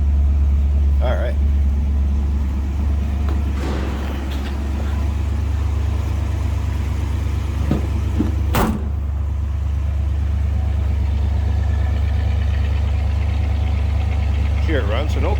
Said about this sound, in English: Here it runs, so no crazy over the top exhaust, crazy cam, anything like that